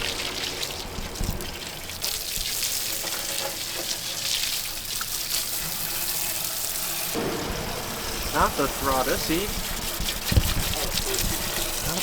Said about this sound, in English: that water's still fucking nasty as fuck coming out